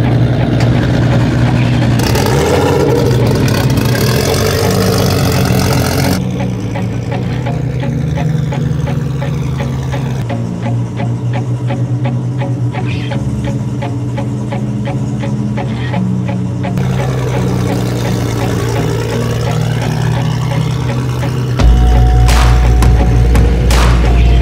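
A turbocharged car at a German Race Wars street racing event, engine droning and booming loudly up close as it pulls away, with crowd noise and voices around it.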